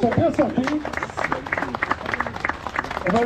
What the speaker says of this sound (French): je vous demande de les applaudir tous les deux